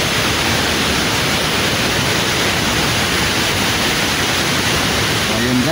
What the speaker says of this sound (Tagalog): ito yung Tuwasan Falls.